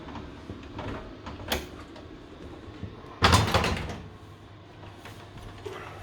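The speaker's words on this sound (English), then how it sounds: "Now he's going to lift up the door." Fisher & Paykel 90 cm oven door being lifted off its spring hinges, giving a short loud clunk and rattle of metal and glass midway, with softer handling knocks before and after.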